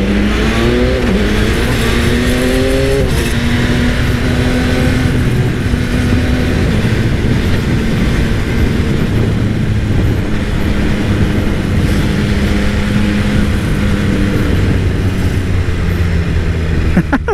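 Yamaha XSR900 motorcycle engine, fitted with a quieter exhaust, revving under throttle, loud and steady throughout with rising and falling engine tones, running close by without any talking.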